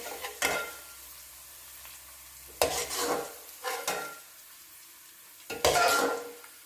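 Bell pepper frying in hot oil in a pan, a quiet sizzle broken by several loud scraping stirs of a utensil against the pan, without talking.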